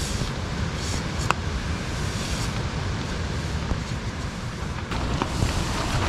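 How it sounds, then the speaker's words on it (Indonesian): Strong wind roars steadily across a mountain campsite near the summit of Mount Ungaran, a dense, continuous rush that stays loud and close for the whole stretch with no voices. "angin berembus sangat kencang."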